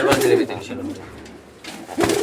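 Pigeons cooing in a market pen, a few close throaty coos in bursts at the start and end, with a person talking over them.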